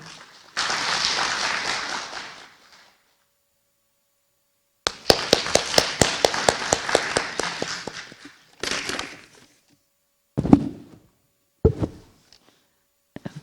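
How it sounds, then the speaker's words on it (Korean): Applause from a forum audience welcoming the head of a women's consumer federation to the podium, heard in loud bursts separated by silent gaps, with sharper, rhythmic clapping in the middle stretch. "큰 박수로 맞이해 주시기 바랍니다."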